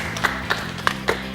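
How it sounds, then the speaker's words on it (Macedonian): A game show studio audience clapping in several short bursts spaced roughly evenly apart, moderate and close, over a steady background hum with no clear speech. "Ајде, аплауз"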